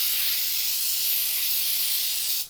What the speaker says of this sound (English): We're just gonna take our pan and spray it with some baking spray.